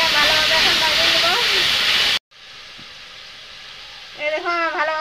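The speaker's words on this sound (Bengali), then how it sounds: "দেখে ভালোভাবে এখন ভাজিয়ে নেব।" Onion, ginger and garlic masala paste fries in hot oil with a loud, steady sizzle for about two seconds. Then comes an abrupt cut to a quieter background with a voice speaking.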